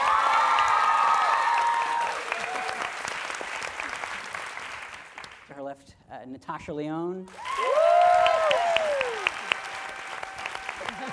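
Audience applause for the cast of Orange Is the New Black at a live Times Talks event, a loud sustained clapping from a crowd that fades as a presenter introduces the next cast member, then swells again briefly.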